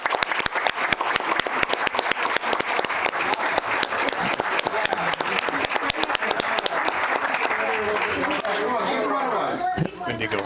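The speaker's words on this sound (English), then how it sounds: "But let's give them a round of applause." A school board meeting audience breaks into applause, sharp clustered claps in a loud sustained round that gives way to chatter and voices toward the end.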